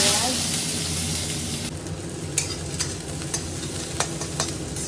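Onion dropped into hot oil in a pan, giving a loud initial sizzle that settles into steady frying, with stirring scrapes and light knocks of the utensil at irregular intervals.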